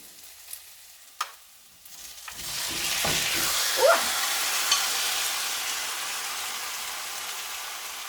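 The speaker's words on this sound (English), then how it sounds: "just leave it there until the onions get a little brown" Onions frying in a pan, a few light knocks followed by a steady, close hiss and crackle of sizzling that swells and then continues evenly, with no talking.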